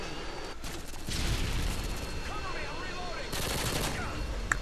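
MP5 submachine gun in a video game: rapid automatic bursts of gunfire in two separate volleys with a pause between, set over busy battlefield background noise.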